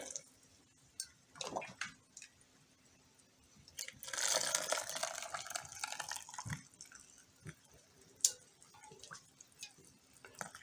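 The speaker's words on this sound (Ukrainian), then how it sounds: "Спочатку заливаю перець таким крутим кипятком." Boiling water pours in a quiet gurgling stream into three-litre glass jars packed with peppers, with faint drips and small clinks around it, close and soft.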